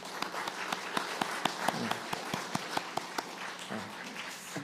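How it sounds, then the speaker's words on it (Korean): A church congregation at a Sunday worship service applauding, with sparse, distinct individual claps standing out over a thin, quieter spread of clapping, moderately close and without talk. "박수 한번 해주시기 바랍니다"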